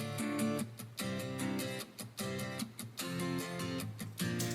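Four stacked layers of strummed acoustic guitar in a pop remix play a rhythmic chord pattern, with steady strums cutting off briefly between bars, full and wide but fairly quiet.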